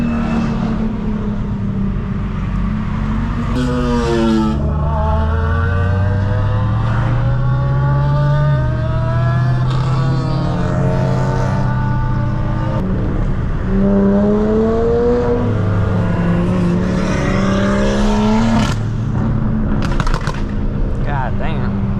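A burble-tuned Dodge Charger Scat Pack at a nighttime car meet revs loudly and repeatedly, climbing and dropping in pitch with crackling bursts, while people talk and react nearby.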